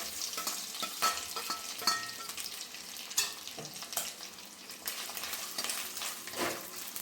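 Coconut pieces fry in hot coconut oil in a clay pot, giving a steady soft sizzle with scraping stirs and occasional utensil clinks, fairly faint and with no talk.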